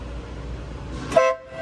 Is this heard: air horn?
yes